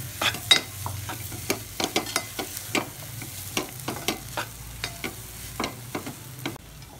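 A spice mixture for mirchi bajji fries in a pan while a spoon scrapes and stirs it in a regular rhythm of sharp clacks over a soft background sizzle, with no talking.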